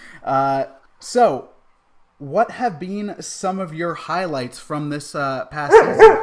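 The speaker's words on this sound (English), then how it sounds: "that's my dog Luna demanding attention" A dog named Luna yips and barks for attention in short bursts at home, mixed in among a person speaking, with the barks loudest near the end.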